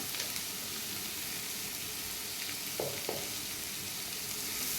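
Onions frying in a pan with a little salt, a steady, fairly quiet sizzle throughout, broken by two brief stirring scrapes near the middle, with no talk.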